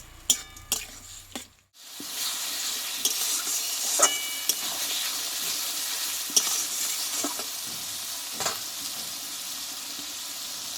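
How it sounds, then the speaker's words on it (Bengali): Spice paste for Bengali mutton curry stir-fried in a pan, a steady loud sizzle with scraping stirs, after a brief clatter and a short pause at the start; no talking. "এই মশলাটা সম্পূর্ণ ভালোভাবে আমি কষিয়ে নেবো"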